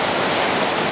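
A creek flowing through wild, untouched hiking country, its close, steady rush of water filling the short moment with unbroken wash and no voices.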